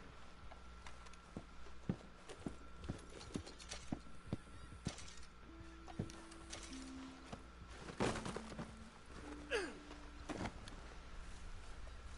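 Horse hooves clip-clopping in the Red Dead Redemption 2 video game, a series of quiet, irregular hoof strikes with a brief whinny and some faint game ambience, no speech.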